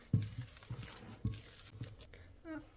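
Cookie dough is worked together with flour by hand, giving soft rhythmic squishing and patting thumps about every half second, fairly close, with a brief faint voice near the end.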